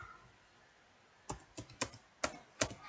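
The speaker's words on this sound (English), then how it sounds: "so I will type about us" Keys tapped on a computer keyboard in a quiet room, five or six crisp, close clicks spaced irregularly after a short pause, with no voice.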